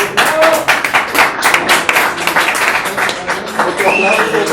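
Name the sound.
applause for the founding members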